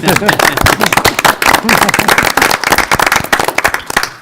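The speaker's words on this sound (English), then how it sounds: "Can we clap for that?" Close, loud clapping from the audience at a public library board of trustees meeting, sharp irregular claps from a small group of people with voices talking and calling out over them.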